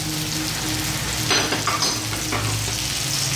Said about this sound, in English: To that we're going to be adding our onions.